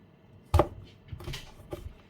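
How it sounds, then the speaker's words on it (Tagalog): A knife cuts thin strips of squash (kalabasa) on a cutting board for okoy, one sharp loud chop followed by several softer cuts. "Yan, hiniwa ko na siya ng maninipis na ganyan."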